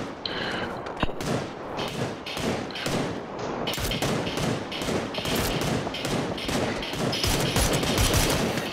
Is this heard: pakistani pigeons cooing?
no